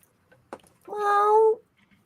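A female cat gives one clear, drawn-out meow, close and fairly loud, after a brief sharp knock or thud.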